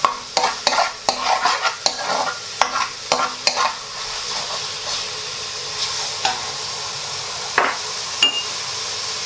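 Garlic fries in oil in a pan while being stirred, with a run of sharp scraping strokes in the first few seconds over a steady sizzle that continues alone afterward, broken by a couple of later knocks.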